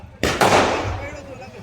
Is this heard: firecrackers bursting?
yes